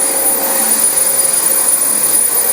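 A Dyson DC25 upright vacuum cleaner running over heavily soiled carpet, a loud, steady high-pitched motor whine and rushing airflow that holds constant throughout, close up with no talk.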